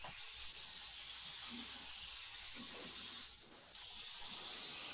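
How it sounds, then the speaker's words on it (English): Steady, loud broadband hiss of a spray being released indoors to kill a spider, continuing for several seconds with one brief dip in the middle, and no voices over it. "What are you spraying it down or fumigating, John?"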